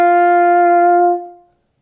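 A single sustained French horn note played with the hand open in the bell, open and resonant with rich overtones, held for over a second before fading out cleanly.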